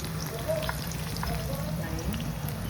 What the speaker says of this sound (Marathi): आता हळद नुसती टाकायची